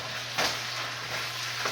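Steady broadband sizzle of food frying in a pan, close and continuous, with a couple of brief louder crackling bursts.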